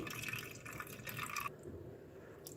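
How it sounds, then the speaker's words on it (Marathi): Water poured or drained off soaked sorghum flour in a kitchen, a steady close trickle and splash for about a second and a half before thinning to a faint drip. "हे आता ज्वारीच्या पिठावरचं पाणी अलगत काढून घ्यायचं आहे"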